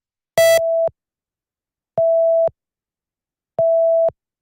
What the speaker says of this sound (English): I'm doing solo for the sine wave.